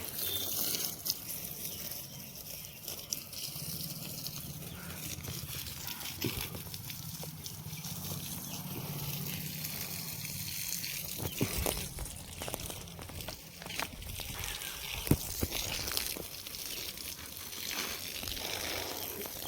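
Water gushes steadily onto potted plants and a small tulsi shrine platform in bright midday sun at home, a continuous splashing wash with occasional louder spatters and crinkly rustles.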